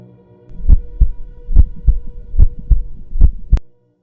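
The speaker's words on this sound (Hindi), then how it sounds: "दिल जोर जोर से धड़कने लगा" A heartbeat sound effect for a Hindi horror story thumps loudly in a slow, regular series of about nine deep beats over a low hum, with no voice, and ends in a sharper final hit.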